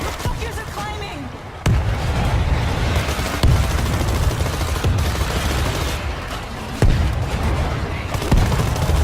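Gunfire and a grenade blast erupt during a World War Z zombie battle, with repeated sharp bursts and heavy booms over a dense, continuous rumble of combat.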